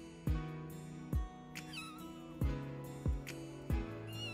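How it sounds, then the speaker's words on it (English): Kitten stuck inside a metal pipe, meowing repeatedly in short, close, clear cries about every second, with a hollow resonant ring to each call and no talking. "This curious little kitten met the same fate"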